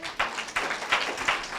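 A church congregation applauding during a sermon, heard as a short run of evenly spaced claps at moderate distance and fairly soft in volume.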